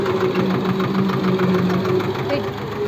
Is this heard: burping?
no